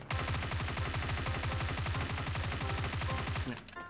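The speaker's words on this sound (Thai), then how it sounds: "ให้เราลองยิงดูนะครับ" Sustained automatic gunfire from a mobile shooting game, sprayed without recoil control: a rapid, even stream of loud shots for about three and a half seconds before cutting off abruptly.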